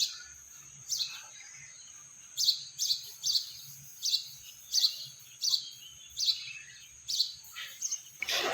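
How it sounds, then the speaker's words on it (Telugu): Small birds chirp in the early morning in a repeated series of short, bright calls, each about half a second apart and moderately close, over a faint low hum and insect-like background, with no talk. "ఇక్కడైతే పొద్దున్నే ఆ పిట్టల సౌండ్ చూసారా?"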